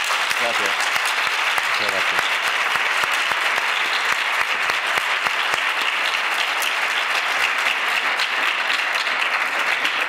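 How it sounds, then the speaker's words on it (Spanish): An audience at a university talk on artistic creation and cultural management bursts into sustained, dense applause that fills the room evenly from start to finish. "le podemos dar un fuerte aplauso, ¿no?"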